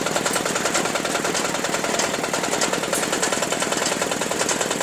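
A 4LZ-1.2 Max mini rice harvester engine runs steadily at close range, a loud, dense, rapid mechanical clatter that holds constant throughout with no talk.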